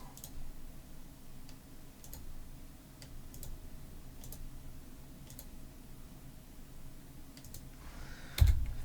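A few sharp computer keyboard key clicks, spaced apart and faint against a quiet room, with a louder thump near the end.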